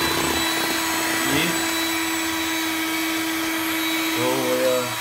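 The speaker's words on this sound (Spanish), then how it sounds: "ahora vamos a la batidora, la abro" A small electric hand mixer motor whirs steadily and loudly throughout, with a faint tonal shift near the end, no talking.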